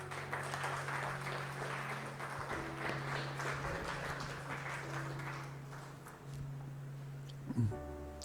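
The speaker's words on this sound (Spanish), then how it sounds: "Dele palmas al Señor." Applause from the congregation during a Spanish-language church service, a diffuse wash of many hands clapping that gradually fades, with a low steady hum underneath and a brief knock near the end.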